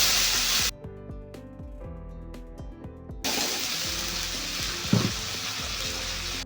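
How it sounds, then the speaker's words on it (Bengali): Whole spices and ginger-garlic paste fry in hot oil for a Bengali fish curry, a loud, bright sizzle that stops for a quieter stretch, then surges back with a brief clatter near the end. "এরপরে ওই একই তেলের মধ্যে ফোড়ন দিতে হবে।"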